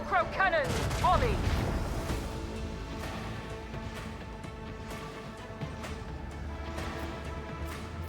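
A heavy volley of booming macro cannon fire in the video game Warhammer 40,000: Rogue Trader erupts and rumbles on, with repeated blasts under a shouted voice at the start.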